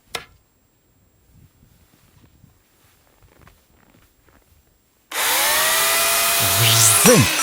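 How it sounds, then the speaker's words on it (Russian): A chainsaw with a clogged bar-oil feed starts abruptly after a few seconds of quiet handling noises and then runs loud and steady, rising in pitch as it revs. "«Вжзынь!» — сказала китайская пила."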